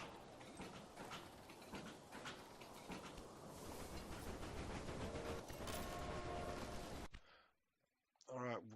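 A Baldwin 10-wheeler steam locomotive departs in the Railway Empire game, a dense, loud rattle of clattering wheels and chuffing that builds steadily, then cuts off abruptly near the end, followed by a brief voice.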